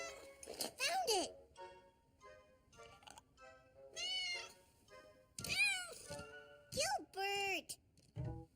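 A toy cat gives several bright, close meows in short bursts spread over several seconds, with a voice speaking between them, in a cartoon.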